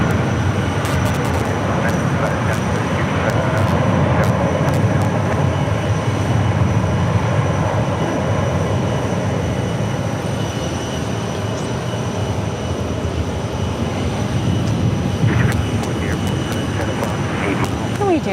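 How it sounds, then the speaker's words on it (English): A United Airlines Boeing 737 from New York landing at Phoenix Sky Harbor Airport, a loud continuous roar of jet engines and rushing air filling the scene, with faint voices underneath. "That's United Airlines landing, and that's from New York, Flight 1249."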